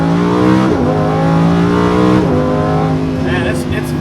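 Lamborghini Huracan LP580-2 revving hard in second gear, its engine note climbing steeply with a quick upshift dip around two seconds in, loud and close, a brief tire chirp near the end.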